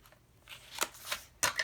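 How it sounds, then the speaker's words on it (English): Highland Heather cardstock is folded along a score line and creased with a bone folder, giving a few quiet, close papery swipes and rubs in short bursts. "Use my bone folder to give it the nice crease."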